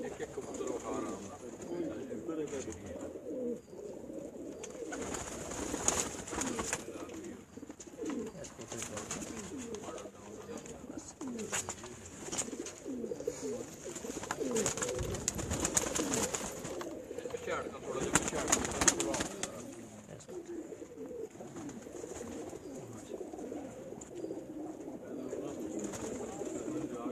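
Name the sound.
pigeons cooing on a rooftop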